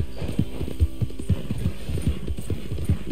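Arabian horse galloping in the video game Red Dead Redemption II, a steady run of muffled hoof thuds in quick rhythm over a low hum, close and moderately loud with no talk.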